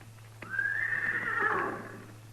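A horse gives one long neigh lasting about two seconds, rising quickly then trailing off, moderately loud over a low steady hum in an old-time Western radio drama.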